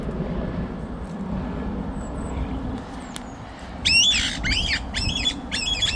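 Pet parrots, frightened by a passing helicopter, give four harsh, loud squawks in quick succession in the second half. A low, rumbling engine drone runs underneath throughout.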